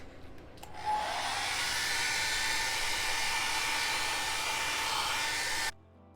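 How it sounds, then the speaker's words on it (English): A hair dryer switches on and blows with a loud, steady whooshing roar for several seconds, then cuts off abruptly. "I can speed up that process by grabbing a hair dryer."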